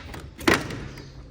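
A block of ash wood strikes the driver's door of a Bedford VAL van once, giving a single solid thud that is close and moderately loud against a quiet workshop background.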